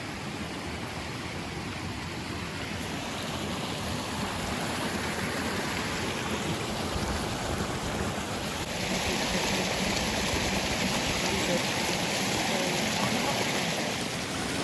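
Steady rushing of flowing water, a continuous broadband wash from a nearby mountain river in the Pyrenees, France, with no voices.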